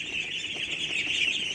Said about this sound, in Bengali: দেখেন আমার পিকিং স্টার 13 জাতের হাঁস